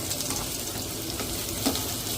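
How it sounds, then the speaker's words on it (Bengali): Okra frying in hot oil in a pan, a steady close sizzle with occasional soft pops and stirring, with no voices. "ভালো করে ভেন্ডিটা ভেজে উঠিয়ে নিয়েছি"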